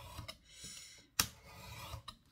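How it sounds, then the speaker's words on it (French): A craft blade cuts a small piece of cardboard in quiet, close rasping strokes, with one sharp snap partway through. "Je coupe une petite cartonnette."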